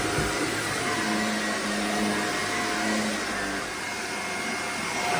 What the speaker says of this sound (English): Hope you can hear me okay with the vacuum cleaner.